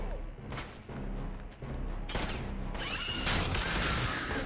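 Frag grenade detonating in the 2009 Wolfenstein shooter, a loud blast swelling from about two seconds with a debris-filled roar and crackle trailing on, amid steady game noise.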